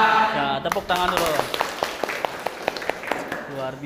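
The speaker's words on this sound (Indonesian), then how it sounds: "Ya, tepuk tangan dulu." Schoolchildren in a classroom clapping in unison, sharp evenly spaced claps in a steady beat, preceded and overlapped by voices singing and talking.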